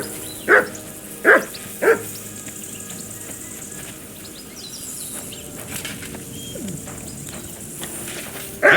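Three quick, sharp barks from a dog in Kingdom Come: Deliverance II come early, then quiet outdoor ambience with birds and insects follows, and one more bark cuts in at the very end.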